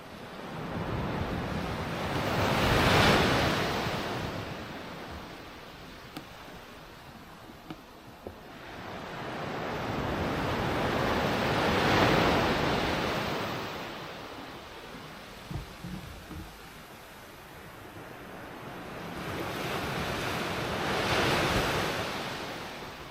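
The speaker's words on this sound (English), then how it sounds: "tide's flooding in now." Sea waves roll onto Southbourne beach as the tide floods in on a cold day, three slow swelling surges of surf with wind buffeting the microphone and a few faint knocks between, no talk.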